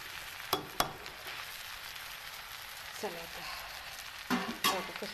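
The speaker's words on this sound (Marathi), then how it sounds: "आता मस्त परतून घेतली बरं का खालीवर करून घेतली" Okra being stir-fried in a pan, a soft steady sizzle with a few sharp scraping stirs, close but fairly quiet, and a voice briefly in the background.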